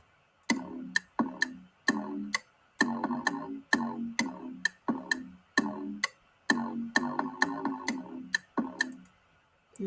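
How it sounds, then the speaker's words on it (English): An FL Studio metronome ticks in a steady, evenly spaced pattern, each sharp click ringing briefly before the next. The clicks are crisp and close, alone with no talk. "So I'll turn the metronome on and then off."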